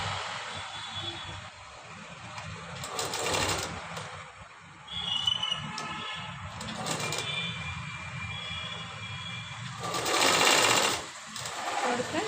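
A sewing machine stitches a joint seam, about half an inch in from the edge of a top fabric piece, running steadily in bursts that swell and ease with short pauses, close and alone with no talk.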